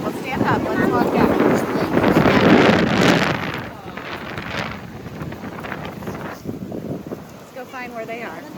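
Strong gusts blow across the microphone on a beach at Lido with big waves, buffeting loudly at first and then easing, while people talk throughout.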